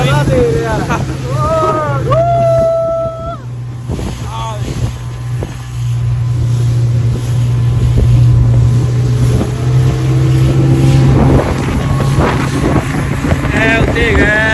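A motorboat runs along the Chenab River with a steady low engine drone, wind buffeting the microphone and splashing water, while people talk and call out excitedly over it.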